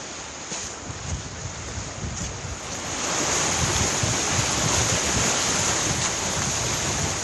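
Steady strong wind buffeting the microphone with surf roaring behind it, growing louder partway through, on Scotland's north coast by rock pools; no voices.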